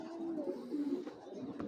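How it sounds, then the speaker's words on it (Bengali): A large Python breed pigeon gives a soft, low coo close by, brief and quiet. "দেখুন কবুতরটা আমি সাইজটা বোঝানোর চেষ্টা করতেছি।"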